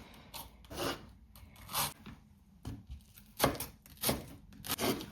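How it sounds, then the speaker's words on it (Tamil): Onion sliced thinly with a knife on a board while preparing chicken fajitas, giving a series of crisp, close cutting strokes in irregular rhythm with short pauses between them. "இந்த ஷேப்பில் வெங்காயத்தை கட் பண்ணி மெலிசை வெட்டி எடுத்தோம்னா சரி"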